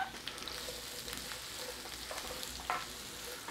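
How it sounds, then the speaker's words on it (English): Onion slowly cooking in bacon fat for German hot potato salad gives a steady, soft, close crackling sizzle with occasional small pops. "We are going to slow cook our onion"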